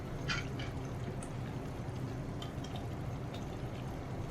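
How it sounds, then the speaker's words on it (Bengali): Vinegar poured into a tamarind pickle, a few soft splashing trickles near the start over a steady low background hum, with faint drips after. "এখন আমি এর মধ্যে ভিনেগার দিয়ে দেবো"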